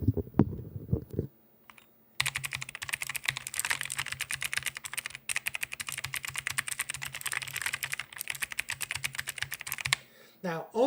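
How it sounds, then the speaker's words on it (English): A clicky RGB mechanical keyboard is typed on rapidly and continuously at close range, a dense run of crisp key clicks following a brief voice at the start. "So if we do a quick typing test, I'm gonna grab this microphone, I'm gonna flip it over so you guys can hear"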